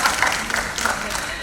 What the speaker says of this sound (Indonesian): Luar biasa, tepuk tangan ya.